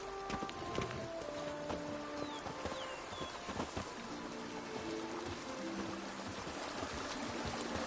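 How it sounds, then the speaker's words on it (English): Horse hooves clip-clop in The Witcher 3: Wild Hunt, Blood and Wine, a quiet, steady galloping patter mixed with rain-like ambient noise and faint bird calls. "Even a horse drops if you ride it at a constant gallop."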